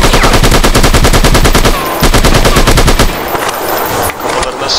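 Rapid machine-gun bursts from the video game The Last One rattle loudly in quick succession, with a brief pause before a final burst, close and dominant in the mix.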